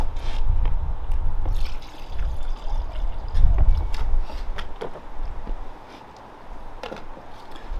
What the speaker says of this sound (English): Add a little bit of water in here.